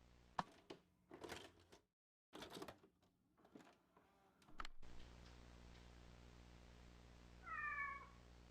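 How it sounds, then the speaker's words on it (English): A cat meows once, a short wavering call rising over quiet background hum near the end, preceded by scattered ticking and clicking sounds from the game Kentucky Route Zero. "That's a cat."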